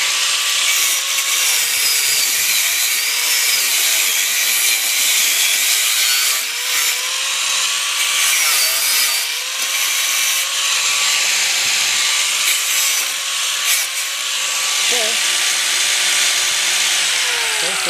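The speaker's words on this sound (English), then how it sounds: "we'll just give this a shot and see if we can cut this sailing wire" A Masterforce 4-1/2 inch angle grinder whines loudly and continuously as it cuts through sailing wire, its pitch dipping and rising under load.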